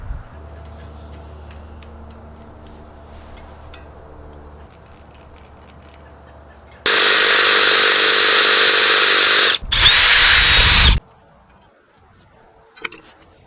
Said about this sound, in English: I'm just gonna go ahead and drill into the concrete and the metal.